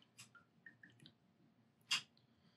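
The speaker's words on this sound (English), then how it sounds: "Let's wash our brush." A paintbrush is swished and tapped in a cup of water during a kids' painting lesson, giving faint, quiet drips and squishes, with a brief louder splash near the end.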